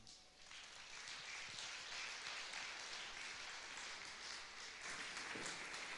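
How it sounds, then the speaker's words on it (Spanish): Applause from a church audience at a theatre production fills the space in a steady, dense wash of clapping, fairly far off and soft, with no one speaking over it. "Vamos a recibirlo con un aplauso."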